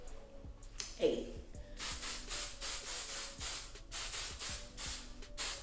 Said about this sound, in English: I applied a little bit of spray